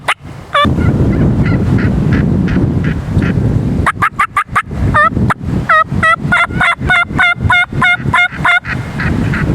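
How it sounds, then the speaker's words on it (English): Wild turkey gobbling during a Georgia spring hunt, loud and close, with rapid rattling gobbles repeated many times in quick succession after a brief noisy start, then a steady series of sharp bursts. "It sucks when they don't gobble, but we just killed that turkey"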